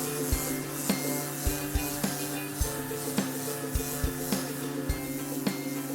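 Coarse 50 grit sandpaper scrubbing thick boat bottom paint on a hull, a steady close rasping broken by regular strokes, each stroke ending in a sharp knock roughly every second, with no talking.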